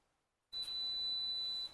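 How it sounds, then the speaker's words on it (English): A keyless deadbolt lock confirms a fingerprint scan with one long, steady high-pitched electronic beep, near and clear, lasting just over a second after a short silence. "Green light flashes and a long beep."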